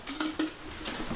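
A small tape measure rattles and clinks against the inside of a glass jar in a short burst of quick, close chinks, with no talking.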